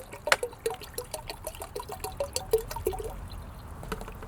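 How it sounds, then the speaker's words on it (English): Comfrey tea fertiliser poured into a garden watering can, heard as scattered splashes and drips over a soft trickle, fairly quiet and close with no talking. "So what I can do with that is pour that into the watering can."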